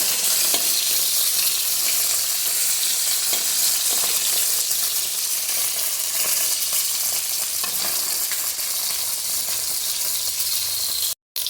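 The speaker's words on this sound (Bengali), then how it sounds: "মাছ ভাজা হয়ে গেছে," Steady, loud sizzling of small fish frying in hot oil, a continuous crackling hiss with occasional faint clinks, ending abruptly.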